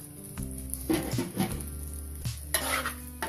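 Vegetable fried rice with egg being stirred and fried in a pan, with a spatula scraping and clattering against the metal in irregular bursts over a low sizzle, close by and without talk.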